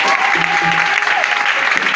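Church congregation applauding during a sermon, a steady dense wash of clapping hands that fills the whole stretch, loud and close, with a sustained tone running underneath.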